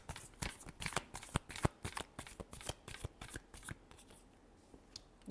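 A deck of tarot cards being shuffled up close, a rapid run of crisp riffling flicks and slaps that carries on steadily for several seconds before easing off, with no speech.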